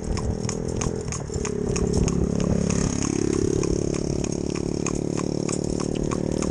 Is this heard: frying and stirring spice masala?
no